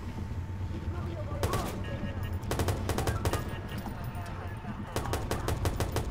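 Rapid bursts of automatic gunfire from the video game Watch Dogs on a city street, loud repeated volleys with pauses between, over a constant low rumble of game ambience and occasional voices.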